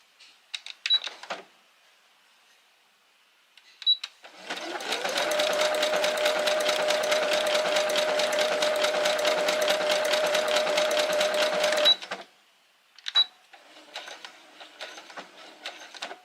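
A sewing machine stitching a primitive art project: a steady, even whirring run of about eight seconds, framed by short clicks and brief stops before and after.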